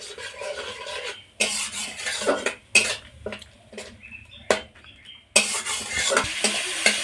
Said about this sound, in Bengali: আরও কিছুক্ষণ এই মশলাটা এইভাবে কষিয়ে নেব